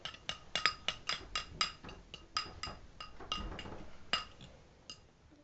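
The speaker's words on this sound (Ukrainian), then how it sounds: "бачите, я перемішую." A utensil stirs in a bowl, giving a quick series of close, bright clinks that come in rhythmic bursts and then slow to a few scattered taps.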